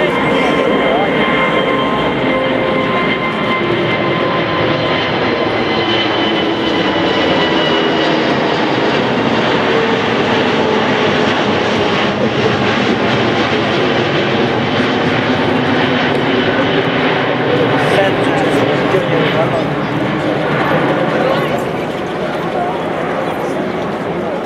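Lufthansa Airbus A380 taking off at Budapest, a loud sustained jet engine roar filling the whole span with broadband rumble, with bystanders talking and exclaiming over it.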